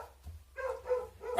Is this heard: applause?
no